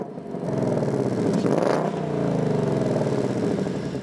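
A 2024 Ford Mustang GT convertible with active valve performance exhaust rumbles deep and loud nearby, its pitch climbing briefly in a short rev before settling back to a steady throaty drone.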